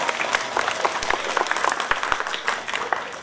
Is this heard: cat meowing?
no